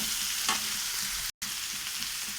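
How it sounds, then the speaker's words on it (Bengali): Carrot and capsicum frying in a pan for chowmein, giving an even, continuous hiss of hot oil with a brief stir near the start and a momentary dropout midway. "গাজর আর ক্যাপসিকামটা দিয়ে আবারও আমি লাল লাল করে ভেজে নিচ্ছি।"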